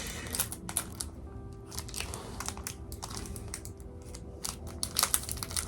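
Scissors snip and crunch through crinkly packaging, a string of sharp cuts and crackles up close, irregular and moderately loud, with no voices.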